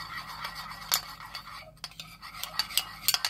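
A spoon clicks and scrapes in a small dish as barbecue sauce is stirred into mustard, with quiet, steady stirring and a few sharper taps.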